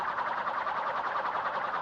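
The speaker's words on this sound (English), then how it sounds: "We need to be listening out for the noise that these saws make. You reckon a pneumatic lifting noise?" A pneumatic saw rises in the video game Limbo, giving a steady, loud whirring hiss that pulses gently and runs unbroken for about two seconds with no other sounds.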